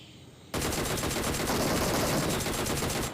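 Video-game automatic gunfire in a mobile battle-royale match bursts in suddenly after a short quiet lead-in and keeps going as a loud, dense, rapid stream of shots until it cuts off near the end.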